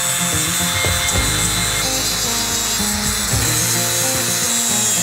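An angle grinder cuts into a metal vehicle frame with a loud, continuous abrasive grinding that holds steady throughout, its pitch shifting slightly as the cut is worked.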